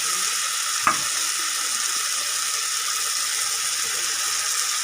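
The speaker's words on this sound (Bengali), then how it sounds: "সব উপকরণগুলো ভালো করে নাড়িয়ে নিচ্ছি।" Soya chunks and fried potatoes sizzle steadily in a pan, with one distinct scrape of a stirring utensil early on and then an even frying hiss.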